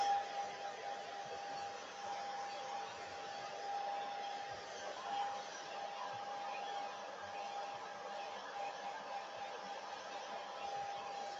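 A hair dryer blows with a constant, even whir and a steady hum close by, drying a green craft piece with no pauses over the full stretch.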